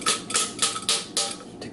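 A half-cup measuring cup banged to pack a dry pie ingredient in a home kitchen, about six sharp, evenly spaced knocks, close and clear with no talking.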